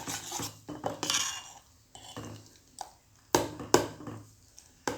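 Butter melting in a pan for homemade ghee, stirred with a metal spoon: scattered scraping clinks and taps against the pan come in short irregular bursts, close and fairly clear, with quiet gaps between.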